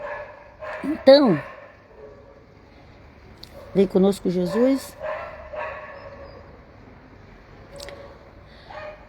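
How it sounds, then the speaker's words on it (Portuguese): A dog barks several times in short yips and bow-wows, a sharp burst near the start and a cluster around the middle, heard at moderate distance while someone speaks Portuguese. "esse cachorro aqui já começou a latir ali"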